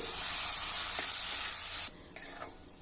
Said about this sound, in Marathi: आता मंद आचेवर आपल्याला ही तांदळाची चुरी पाच मिनिट भाजून घ्यायची आहे